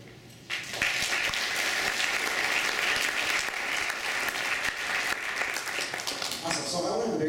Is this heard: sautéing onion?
no